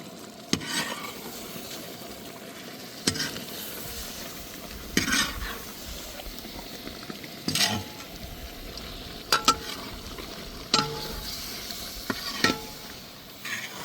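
Fried chicken 65 pieces stirred with a spoon in melted butter in a pan, a soft steady sizzle under repeated scraping and clinking stirs spread through the clip, with no talk.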